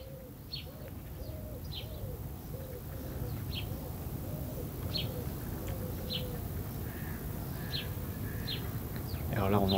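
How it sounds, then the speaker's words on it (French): Birds call in morning woods with a repeated soft cooing phrase and scattered higher chirps over a steady background hum of insects, fairly distant, while someone talks quietly. "Alors là, on n'entend que les oiseaux,"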